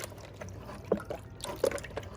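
Chicken pieces soaking in vinegar and water slosh and trickle in a bowl, with soft splashes and a couple of brighter drips close by, fairly quiet and without speech.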